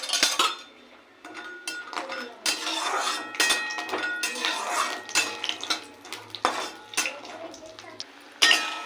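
Lentil dumplings (dal bori) frying in a pan of oil, with busy clinks and scrapes of a metal spoon against the pan over a low sizzle, fairly close and continuous.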